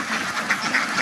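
A flock of domestic ducks quacks in a dense, overlapping chorus, with a couple of louder quacks standing out from the continuous noisy babble.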